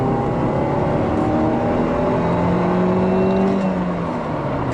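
A Fiat Stilo hatchback pulls hard in second gear, its engine note rising steadily as it accelerates, heard from inside the cabin with road and wind noise and no talking.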